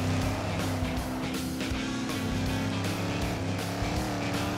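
A race car roars steadily in the Cars 3: Driven to Win video game while driving on two wheels, its engine note loud and continuous with a constant wash of game noise throughout.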